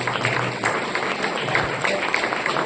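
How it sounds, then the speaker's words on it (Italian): An audience applauds steadily throughout for the doctors and Marietta, dense clapping filling the room, with a voice faintly under it. "Un applauso a questi dottori e un applauso a Marietta"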